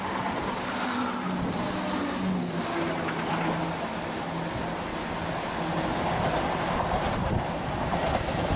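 An Edinburgh to Dundee passenger train rushes past at North Queensferry with a steady, loud rolling roar of wheels on rails lasting throughout, with no talking.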